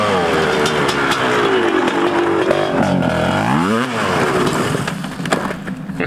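A small 80cc go-kart engine runs in cold snow, buzzing loud and close as it revs up and down in a rising and falling whine, with talk over it.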